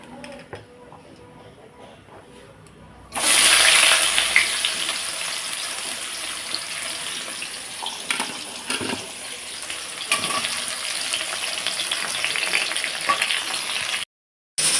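Chopped onion dropped into hot oil with dried red chillies for goat meat curry, bursting into a loud, steady sizzle that continues with stirring scrapes, close up, before a brief cut near the end.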